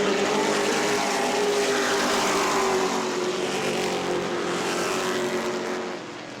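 Race cars in weekly racing at New Smyrna roar past together in a steady, loud pack, engines droning at high revs, with the sound easing slightly as the cars move away near the end.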